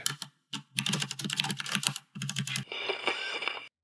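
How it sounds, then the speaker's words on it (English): Fast clicky keystrokes on a loud computer keyboard come in close, crisp bursts separated by short pauses, ending in a denser run of clacks. "I have to finish typing with my keyboard loud"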